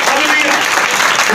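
Church congregation breaks into dense, continuous applause, a loud wash of many hands clapping at once with no pause across the short stretch.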